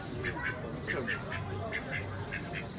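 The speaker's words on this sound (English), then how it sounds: "Oh man, that duck is charging through." An agitated duck at Disney quacking in short repeated bursts, close and fairly clear over a busy outdoor background with people talking nearby.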